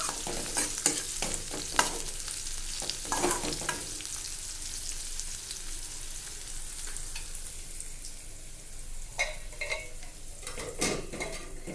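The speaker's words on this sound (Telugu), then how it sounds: "ఒకసారి కలిపేసి మళ్ళీ మూత పెడదాం." Cabbage curry stirred in a pan, with bursts of close spatula scraping at the start and again near the end and a quieter hissing sizzle in between.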